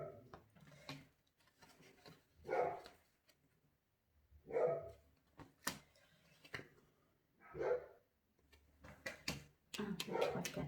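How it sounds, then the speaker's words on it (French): Dogs barking in short, loud bursts spaced a second or two apart, with quieter whimpers and rustling between them, heard indoors without talk. "Les chiens ont envie de s'exprimer aujourd'hui."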